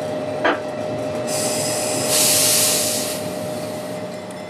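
White Pass & Yukon railway train running with a steady low rumble and a sustained tone, joined midway by loud hissing bursts like released steam or air.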